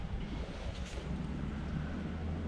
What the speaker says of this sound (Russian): Сегодня ветер такой.